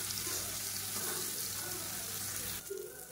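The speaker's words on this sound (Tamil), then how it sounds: "இந்த பன்னீர் வந்து இதில் போட்டு நம்ம ஃப்ரை பண்ணி எடுத்துக்கலாம்." Paneer fries in hot oil with a steady, close crackling sizzle that holds evenly throughout, followed by a soft clunk near the end.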